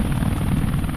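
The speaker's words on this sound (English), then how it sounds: "the Chinooks, we don't know if they're going to be landing on their own or they're going to be taxiing in" Chinook helicopter rotor noise at a forward arming and refueling point, a loud, steady low thudding roar that holds close and constant throughout with no voices over it.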